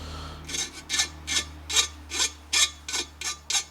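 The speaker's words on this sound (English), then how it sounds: "do a little bit of filing on this edge here yet, just to break that edge" Metal file rasping along the edge of a welded aluminum part to break the edge, about ten short rhythmic strokes in a row, close and clear with no talking.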